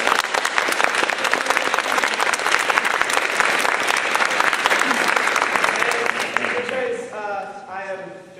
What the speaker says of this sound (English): I would like to have a round of applause for Tricia.